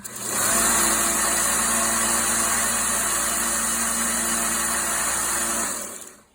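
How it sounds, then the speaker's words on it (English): A Harbor Freight 1x30 belt sander starts up and runs at a steady, loud, even whine with a constant motor hum underneath, then cuts off and spins down near the end, with no talk. "Here's the Harbor Freight 1x30 volume."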